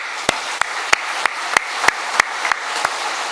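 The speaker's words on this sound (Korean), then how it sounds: "하나님께 영광의 박수 올려드리겠습니다." A church congregation applauds together in a steady, sustained round of clapping, with sharp louder claps cutting through at regular intervals, fairly close and continuous with no talking.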